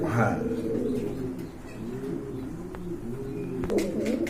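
Pigeons of a red full variety coo steadily and close by, a continuous layered burble with a few faint chirps over it.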